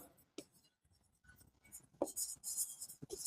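Chalk or marker writing on a board during an accounts class, a few short scratchy strokes in separate bursts with quiet gaps between them, close and moderately loud, with no talking.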